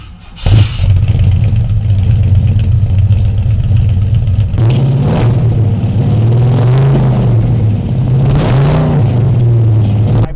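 A classic Ford Mustang engine with a MagnaFlow exhaust idles with a deep burble, then revs up loudly several times, each throttle blip rising and falling, close and alone with no talk.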